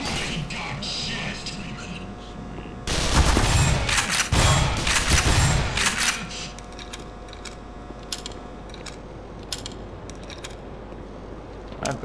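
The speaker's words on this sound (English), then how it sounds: "Shotgun, shotgun, shotgun!" Shotgun blasts in the video game Black Mesa, a cluster of loud bursts mid-clip followed by scattered sharp shots and clatter, with speech and game sounds around them.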